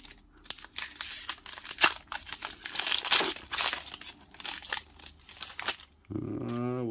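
A 2021 Panini Mosaic football card cello pack wrapper is torn open and crinkled by hand, with close, crisp bursts of crumpling and ripping in an irregular rhythm, followed by a brief low background hum.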